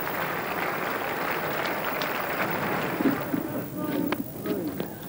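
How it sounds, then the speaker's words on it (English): Crowd at a 1992 World Cup cricket match between Sri Lanka and South Africa applauding around the ground, a steady, distant wash of clapping that carries on throughout with a few brief voices within it. "So applause around the ground."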